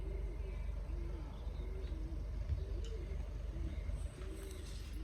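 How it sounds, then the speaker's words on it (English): An owl hoots outdoors near Balanced Rock in Buhl, Idaho, giving a series of soft, low, rounded calls in a steady rhythm over a constant low rumble of wind and background noise. "I hear some owl."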